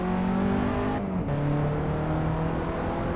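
Race car in a VR racing video game under hard throttle, the engine note climbing steadily, dropping briefly at a gear change, then pulling up again, loud and continuous with no talk.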